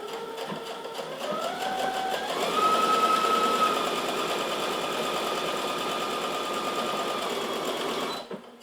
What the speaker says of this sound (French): je vais coudre de chaque côté et je ne couds pas ici au bout